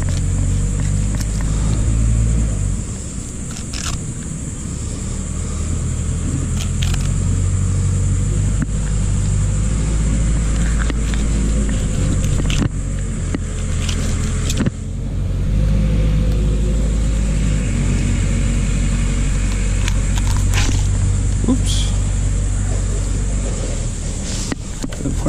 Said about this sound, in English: Joys of living next to a concrete factory.